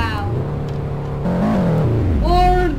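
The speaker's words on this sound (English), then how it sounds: "I'm getting in the Fuji Empire X, which is technically a car that has a big enough exhaust to blow a forest down." Fuji Empire X car in the Pacifico game, its engine droning then revving up in rising pitch steps, loud and close, with a person talking over it.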